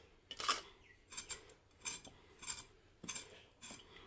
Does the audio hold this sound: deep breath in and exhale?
no